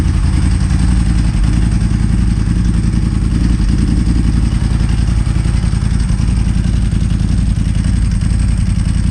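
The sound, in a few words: Ducati 996 motorcycle engine running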